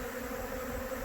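Honey bees confined inside a hive with a blocked entrance give a steady, faint, continuous buzzing hum with no break.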